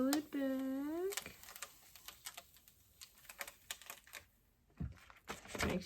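Vinyl transfer tape peels off a screen-printing screen in a series of dry, crackly ticks and small snaps, spaced irregularly and close. A short voiced sound comes at the start.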